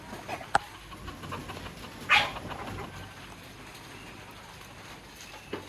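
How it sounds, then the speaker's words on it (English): Dogs near a tent and outdoor cooking area in the Philippines let out a short yelp or whimper amid a low ambient background, with a sharp click early on. "There's some dogs."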